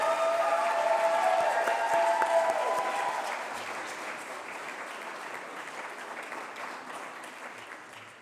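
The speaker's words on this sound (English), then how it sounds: "Please give a round of applause to the graduates of international education." An audience at a graduation ceremony applauds the graduates with sustained, dense clapping that swells briefly, then slowly fades over several seconds; a faint tonal ring lingers near the start.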